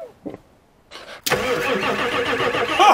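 A Ford F350 truck with an IDI diesel engine cranks briefly, then catches and starts, settling into a steady, fairly loud rumbling idle close by.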